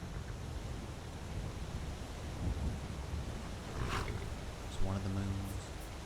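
A tiered waterfall in Skyrim pours into a small lake, giving a soft, steady rushing wash throughout, with a brief tonal sound near the end.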